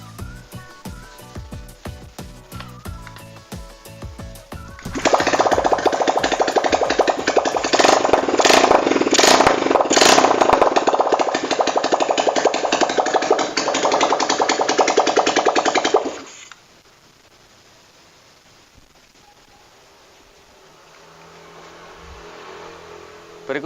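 A Honda Tiger motorcycle engine fires up and revs hard for about ten seconds, a loud buzzing roar that then cuts off abruptly, leaving a quiet low hum.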